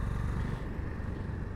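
A Honda CB 350 motorcycle with a smooth, refined Japanese engine rumbles low and steady as it is ridden through a turn, a faint, even engine drone with no talking.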